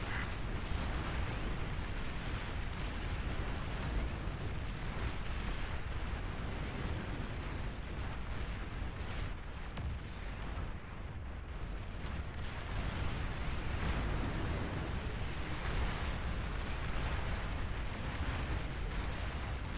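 Continuous rumbling artillery blasts and explosions from the real-time strategy video game Beyond All Reason, a dense, loud, unbroken barrage with no talking over it.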